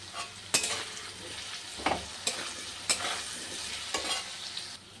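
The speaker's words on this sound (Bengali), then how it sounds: "এই দেখো তেলটা গরম হয়ে গেছে, আলুটা দিয়ে দিলাম" Potatoes seasoned with salt and turmeric fry in hot oil in a home kitchen while cooking chana dal, a steady sizzle broken by several sharp stirring scrapes, close and moderately loud with no talk.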